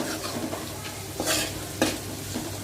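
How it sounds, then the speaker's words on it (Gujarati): Diced carrots and potatoes sizzle steadily in hot oil in a pan while a spoon stirs them, with a few louder scraping bursts over the continuous frying hiss. "હવે ફરી પાછું ગાજરને 1 મિનિટ માટે પકાવશું"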